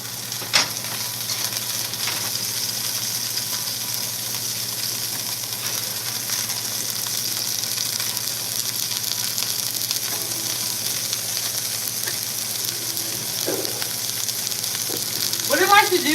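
Pork steak fries in a hot pan with a steady, close, continuous sizzle, joined by a few faint clinks near the end.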